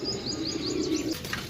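Pigeons at a bird seller's loft in Jhelum, Pakistan, cooing low and steady close by, with faint chirps over a continuous background hum and no talking.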